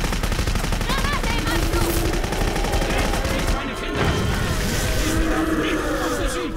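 Dense, continuous gunfire with rapid automatic shots and a heavy blast in Clive Barker's Jericho, loud and close, with someone talking over the din.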